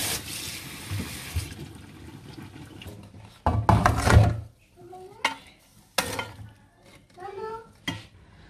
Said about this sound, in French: Donc on va vraiment le mouiller, le rincer, hein.